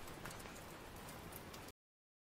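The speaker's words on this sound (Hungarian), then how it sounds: "Háttérben esik az eső, ég a tűz." Steady rain falling outdoors with a fireplace fire burning indoors, giving a cozy Christmas-like backdrop: a dense, even patter and hiss that continues unbroken, then cuts off abruptly.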